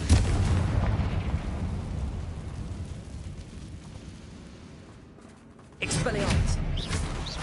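A Confringo fire spell blasts in Hogwarts Legacy with a booming, rumbling explosion, followed by a quieter rumbling tail and then a second loud burst as voices speak over it.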